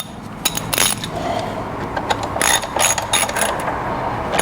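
A nut is tightened near the spark plugs of a Jeep Grand Cherokee, with several close, sharp metallic ratchet clicks in short bursts over a low background hum.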